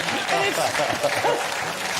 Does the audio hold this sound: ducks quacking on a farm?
no